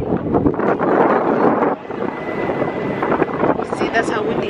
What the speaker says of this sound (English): See, that's how windy it is.